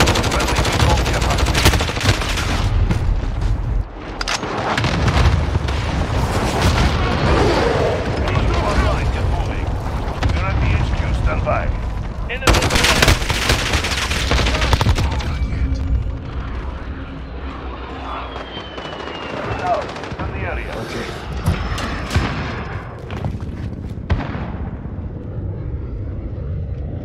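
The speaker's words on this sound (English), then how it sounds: "Allied cluster strike inbound." A video game battle with an allied cluster strike: rapid gunfire bursts and booming explosions roll in heavy, close barrages, with dense rumbling blasts, sharp shots and short radio-style voice callouts mixed in.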